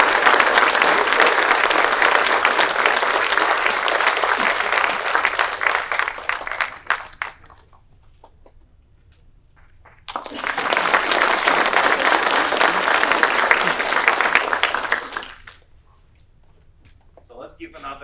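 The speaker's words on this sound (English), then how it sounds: "So let's give another round of applause." Two bursts of loud audience applause at a college engineering faculty and staff meeting honoring an award winner, each lasting several seconds, broken by a quiet gap and ending abruptly.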